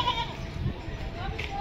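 Goats at a farm pen bleating faintly in the background, a few short wavering calls under near-continuous speech.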